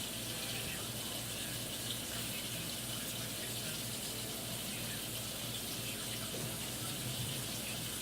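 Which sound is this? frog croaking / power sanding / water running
water running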